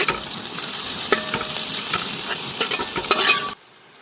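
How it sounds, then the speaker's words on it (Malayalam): Long-sliced garlic frying in hot oil, a loud continuous sizzle with scattered stirring scrapes, cutting off sharply near the end to near silence. "വെളുത്തുള്ളി നമ്മൾ നീളനായി അരിഞ്ഞിട്ട് ഇരിക്കുന്നത് ഇതിന് നന്നായി ഒന്ന് മൂത്ത് വെച്ചേ"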